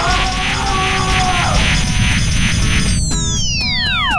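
A handheld hoover gun vacuum cleaner runs with a loud, steady hum and whining tones, which sweep sharply downward near the end as it winds down.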